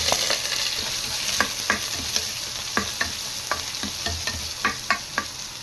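Garlic and onion sauté in a pan, a constant bright sizzle under repeated scraping clacks of a spatula stirring at an uneven pace, near and fairly loud.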